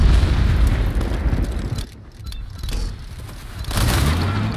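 Airstrike explosions in the video game World War 3, loud rumbling booms rolling in two heavy waves with a short lull between, close and dense with low-end roar.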